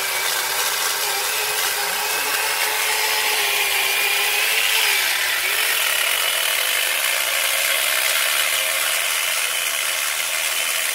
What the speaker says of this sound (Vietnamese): Rồi lấy cưa máy cắt tạm hai cái.